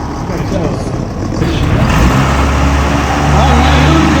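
A show car revs in the SEMA burnyard, producing a loud, rumbling engine roar that builds in intensity over a few seconds amid crowd noise and voices.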